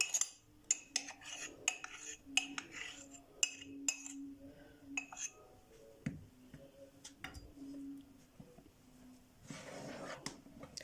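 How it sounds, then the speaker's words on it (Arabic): Bread dough for bakakin (kmaj) being mixed by hand in a bowl as milk is added a little at a time: a close, uneven run of soft scraping, with frequent light clinks and knocks against the bowl. "ابدا اخلط العجينه بتاعتنا"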